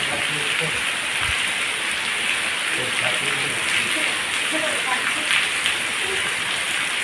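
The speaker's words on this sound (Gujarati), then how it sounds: "વરસાદ ચાલુ છે અત્યારે" Steady rain falls nearby as a continuous hiss of drops on surfaces, with faint voices talking in the background.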